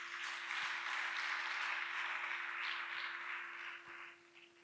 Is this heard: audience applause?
yes